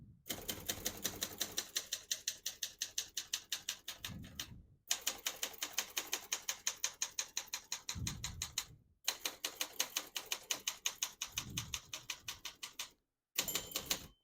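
A 1975 Olympia SM9 portable typewriter being typed on, rapid steady clacking keystrokes in three long runs, each ending in a heavier carriage-return thunk with brief gaps between, close and clear with no voices.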